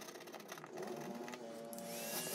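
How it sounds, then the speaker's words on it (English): Vacuum cleaner running indoors, a steady whirring drone with a tonal whine that swells louder toward the end, heard at moderate distance and without talk. "I shouldn't talk over the vacuum"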